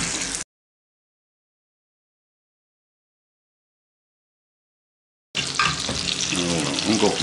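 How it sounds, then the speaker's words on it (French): Roast chicken is basted with hot pan juices, and after a long silence a close, continuous sizzle and liquid splashing rise for the final two seconds. "on va en profiter pour arroser avant de réenfourner pour les dernières minutes"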